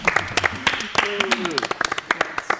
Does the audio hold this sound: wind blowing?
no